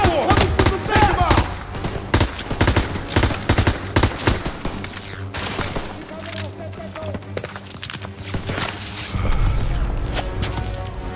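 Machine gun fire and a chaotic gunfight in the World War II shooter Call of Duty WW2, with dense bursts of automatic shots and impacts running throughout, loud and close, while voices shout over the battle.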